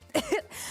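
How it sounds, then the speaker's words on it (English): A single person coughs twice in quick succession, short throaty bursts close to the microphone, followed by a low background hiss. "Oh, I was coughing."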